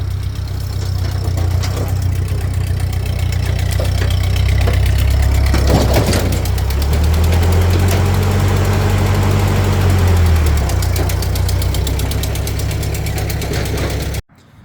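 A Ford 2N tractor engine runs steadily at idle up close, with a deep low throb and a rougher swell of revs in the middle before it cuts off abruptly at the end.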